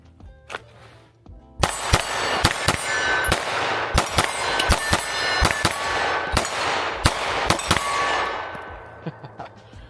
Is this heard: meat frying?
no